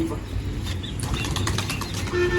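A pigeon's wings flap in bursts as it lands on the umbrella perch of a rooftop pigeon loft, the rustling beats close and busy over steady outdoor background noise.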